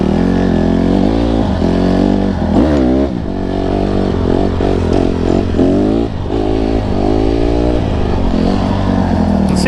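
A Honda CRF150RB dirt bike rides slowly along a muddy woodland single-track trail, its engine loud and close with repeated throttle blips and rising and falling revs, clattering over the rough ground.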